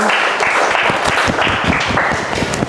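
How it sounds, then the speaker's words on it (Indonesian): Schoolchildren in a classroom clap together in a dense, steady round of applause that stays loud and close throughout, with no talk over it. "Kita kasih aplaus untuk keberanian anak-anak dan"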